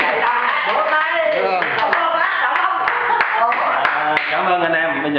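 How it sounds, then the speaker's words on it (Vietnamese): A crowd claps at a New Year gathering, with a dense, steady patter of many hands and a few sharper individual claps, mixed with voices and party noise throughout. "bạn chạy ra vỗ tay đi"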